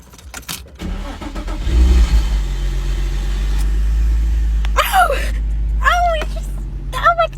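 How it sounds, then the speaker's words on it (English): A car engine cranks and rumbles low but fails to catch, the droning turnover running for several seconds while a voice whimpers and groans over it. "my car is not starting up"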